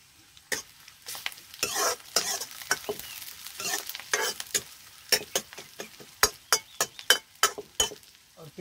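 Ginger, garlic, green chillies and onions frying in a pan for a Himalayan curry, with soft sizzling under a run of sharp, irregular stirring clacks that grow denser and louder toward the end; no talking.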